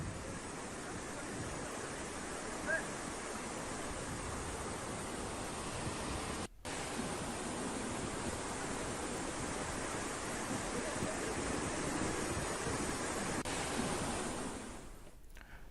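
Rain-fed waterfall flowing in monsoon weather, a dense, steady roar of rushing water that stays broad and continuous throughout, briefly cut out once before resuming.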